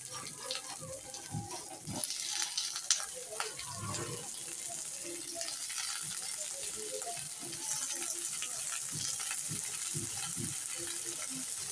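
Potatoes and onions fry in a wok seasoned with five-spice, a steady hiss with occasional crackles and clatters that runs beneath intermittent talking.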